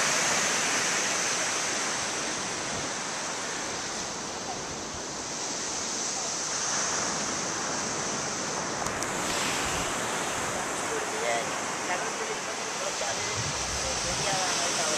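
Sea waves at Dhanushkodi on the Gulf of Mannar, a steady broad roar of surf and wind running unbroken throughout, loud and enveloping, with faint voices underneath.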